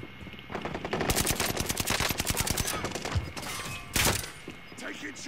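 Call of Duty automatic gunfire on Rebirth, a fast, loud string of evenly spaced shots followed by a few separate heavy thumps and a sharp blast.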